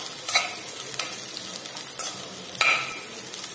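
Ingredients for sambar sautéing in a pan give a faint, steady sizzle, with a few brief scraping stirs breaking through at intervals.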